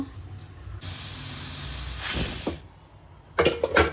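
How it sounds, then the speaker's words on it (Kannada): Pressure cooker venting steam while mutton sambar cooks Mandya style: a loud, steady hiss holds for about two seconds, then drops away, followed by a few short clattering knocks near the end. "ಕುಕ್ಕರ್ ಮುಚ್ಚಳ ಮುಚ್ಚಿ ನಾಲ್ಕು ವಿಸಲು"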